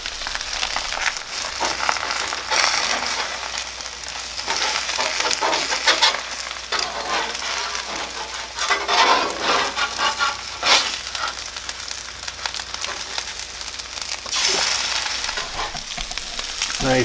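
Breakfast foods sizzle and fry on a Blackstone flat-top griddle during a Christmas Eve garage cook, a steady broadband crackle with scraping and stirring sounds, close and continuous throughout.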